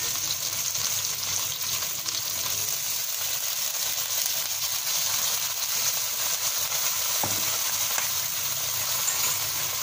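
White radish and okra stir-frying in a pan with a splash of water, giving a steady, loud, continuous sizzling hiss throughout with no talking.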